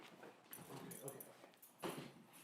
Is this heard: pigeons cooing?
no